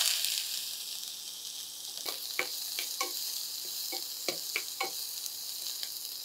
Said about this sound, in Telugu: ప్యాన్ కొంచెం హీట్ ఎక్కగానే కొంచెం ఆలివ్ ఆయిల్ తీసుకోండి. ఆయిల్ హీట్ ఎక్కగానే ఆనియన్స్ వేసుకోవాలి.